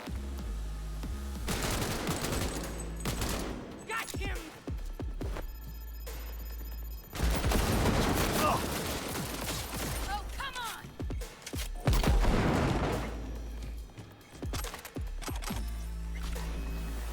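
Assault rifle fire in Cyberpunk 2077 comes in dense, loud bursts within a busy game soundscape of explosions and effects, while a voice talks over it.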